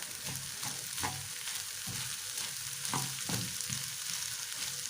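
Basmati rice sizzles and fries in a pan with pepper and salt while a spoon stirs it in scraping strokes, steady close frying hiss throughout.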